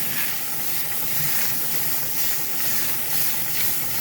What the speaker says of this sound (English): I know you can hear the green beans bubbling away